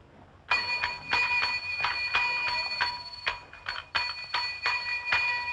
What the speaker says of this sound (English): take that bell and put it away